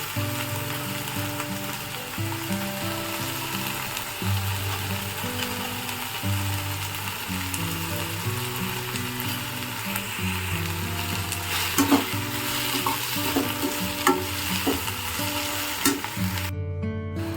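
Ghol leafy greens fry and sizzle in a pan as they are stirred, a steady close crackle with occasional scraping strokes of the spoon, continuing without talk.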